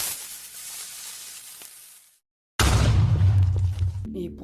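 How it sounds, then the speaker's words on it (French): Minecraft creeper fuse hiss: a brief soft hiss, a sudden cut to silence, then a loud close crackling explosion burst with a heavy low rumble that fades out. "ou ce fameux bruit du creeper."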